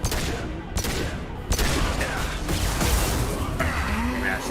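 Pistol fire in the video game Mass Effect 2 Legendary Edition during combat: several sharp, loud shots in quick irregular succession over a dense background of game noise.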